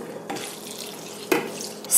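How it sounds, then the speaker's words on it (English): Whisked egg and low-sodium chicken broth poured over a bread mixture for keto stuffing, a soft steady liquid trickle with a splashy burst midway and another building at the end. "now I'm gonna pour it over the bread mixture"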